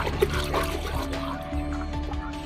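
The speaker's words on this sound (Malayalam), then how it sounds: "ഈ ഷാമ്പു ഇങ്ങനെ ഡയലൂട്ട് ചെയ്ത് എടുത്തിട്ട് നമ്മൾ മഗ്ഗിലെടുത്ത് ഇതിൻ്റെ ശരീരത്തേക്ക് നനഞ്ഞ ഭാഗങ്ങളെല്ലാം നമ്മൾ കുറച്ച് ഒഴിച്ചു കൊടുപ്പിക്കുക" Diluted dog shampoo pours from a mug onto a wet Rajapalayam dog during a bath, a steady close trickle of liquid running for a couple of seconds with faint background noise.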